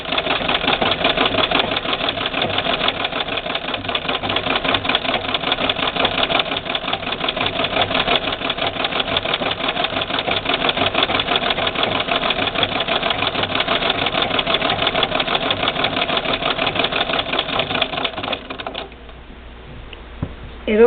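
Restored 1901 White Family Rotary sewing machine, cleaned, oiled and belt-driven, running at speed: a fast, even mechanical clatter, close and loud, holding steady for most of the stretch before slowing and stopping near the end.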